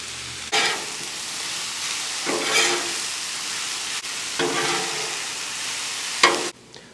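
Turkey and vegetable stir fry of carrots, red and yellow peppers and onions sizzles on a Blackstone flat-top griddle. Steady frying hiss swells into several louder sizzling surges as the food is tossed, with no talking.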